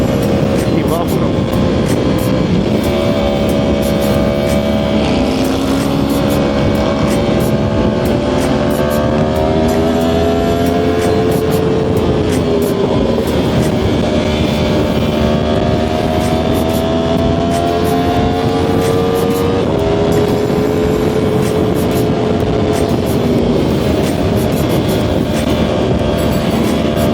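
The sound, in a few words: motorcycle exhaust roaring at speed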